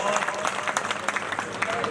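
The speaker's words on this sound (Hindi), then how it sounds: "एक बार जोरदार तालियों से इनका स्वागत किया जाए" Audience applause welcoming a poet at a stage event, a dense wash of clapping at steady loudness, with crowd noise and some voices mixed in.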